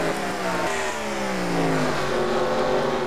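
NASCAR Nationwide Series stock cars racing in the Food City 250, with loud, continuous engine roar and pitch sweeping as cars pass and accelerate close by.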